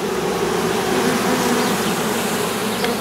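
Honey bees clustered together inside a BVAC bee vacuum box during an open-air hive removal produce a steady, dense buzzing hum that holds evenly throughout, close and fairly loud with no talking.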